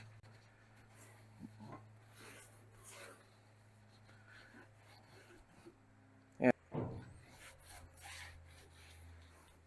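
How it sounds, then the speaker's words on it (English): Rubbing and wiping strokes on a VW Beetle trunk surface before a trunk seal install, a soft cloth drag over the panel with a couple of louder knocks near the middle, heard close and faint with low hum behind. "This is what I'm using just to wipe everything off, to make sure it's clean so I don't get fisheye or anything crazy."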